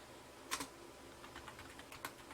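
Faint, sparse tapping on a computer keyboard as a board title is typed, a few soft keystrokes scattered over a low steady background hiss.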